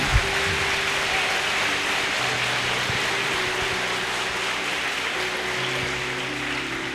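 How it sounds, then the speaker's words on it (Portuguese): A church congregation applauds during a service, a steady wash of clapping with low sustained organ or keyboard tones beneath. "Pode aplaudir ao Senhor, pode aplaudir."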